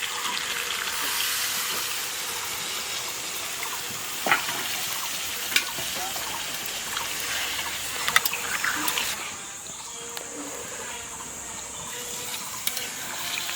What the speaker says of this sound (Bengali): মাংসটা কষানো হয়ে গেছে, এবার জল দিয়ে দিচ্ছি পরিমাণ মতো।